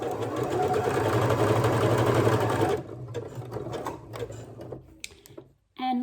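A sewing machine stitches stretch fabric with elastic, humming steadily and loudly for a few seconds before stopping, followed by quiet clicks and fabric handling.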